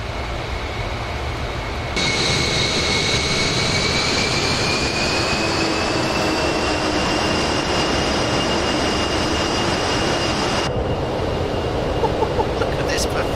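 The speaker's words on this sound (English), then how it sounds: "get a bit of Vulcan howl going" An Avro Vulcan jet in Microsoft Flight Simulator howls at full power, a loud, sustained whine with rising tones holding steady over a constant roar before cutting back.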